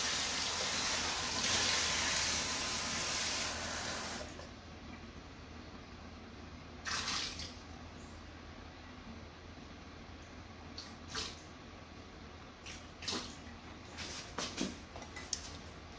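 Hot water gushes from a kitchen tap for about four seconds, steady and close, then stops, followed by faint clinks of dishes and a cup during deep-dish pizza dough preparation.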